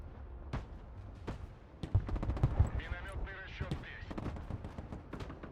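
Automatic grenade launchers fire in the strategy war game Broken Arrow, a rapid string of thumping shots in a short burst, followed by scattered distant blasts and crackling battle noise.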